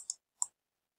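Two crisp computer mouse clicks, close and fairly quiet, a single click followed by a second one about a third of a second later, then silence.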